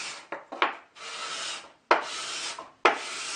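A hand scraper strips varnish from a wooden headboard in several rasping strokes, each starting with a sharp bite and trailing off, separated by short pauses, close and alone.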